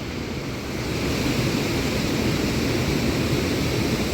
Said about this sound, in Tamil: இங்கே பாருங்கள், இந்த இந்த குழிக்குள்ளே வந்து கிட்டத்தட்ட எத்தனை ஆயிரம் டன் தண்ணி விழுது தெரியுமா?